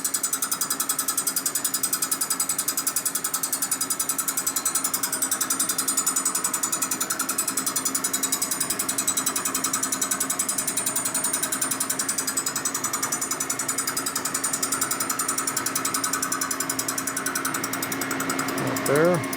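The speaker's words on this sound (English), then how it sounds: "Tried to hone this out, it'll break the hone probably." A power hone working inside an engine cylinder from a junk Harley panhead race motor, a loud, continuous rattling mechanical grind close by that holds steady for the whole stretch.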